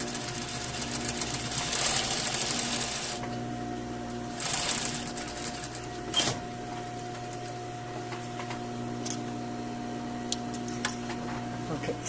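A sewing machine hums steadily while understitching the under collar at 1 millimetre from the seam allowance, with a couple of louder stitching surges and a constant motor drone.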